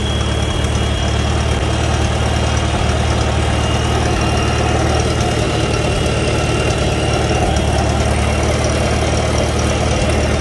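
Farmall Super A tractor fitted with a belly mower idling close by, a loud, steady, rumbling engine drone that holds evenly throughout without any talking.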